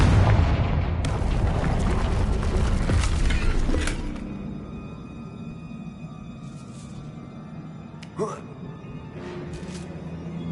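Bombarda and Confringo explosion spells go off in Hogwarts Legacy, a loud rumbling blast dominating the first few seconds, then fading into quieter ambience with a sharp crack near the end.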